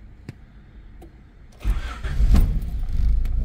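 A Honda Concerto car with 240,000 on the clock starts up: after quiet clicks, the starter turns and the engine catches into a loud, close, steady idle.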